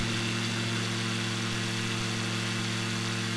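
Icon A5 amphibious light aircraft engine at full power for takeoff, a steady close droning roar with strong low harmonics that holds constant throughout.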